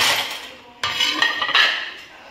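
Plate and steel utensils clatter close by as mixed rice is served onto a plate, with a sharp knock, then scattered clinks and scraping over a few seconds.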